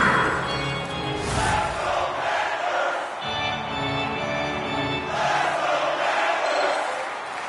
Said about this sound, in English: Here in the back half of this period, you can feel the energy in this crowd